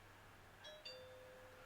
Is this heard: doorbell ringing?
yes